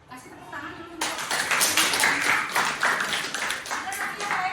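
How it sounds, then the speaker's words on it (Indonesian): Students in a classroom break into applause, a dense burst of clapping that starts suddenly and continues steadily, filling the room at moderate loudness with some voices mixed underneath. "Kasih tepuk tangan dulu."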